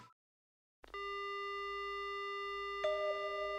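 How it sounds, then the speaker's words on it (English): After a short silence, a steady continuous phone dial tone hums alone in the horror game Spirit Hunter: Death Mark, holding evenly with a slight shift near the end. "The only sound I hear is the dial tone."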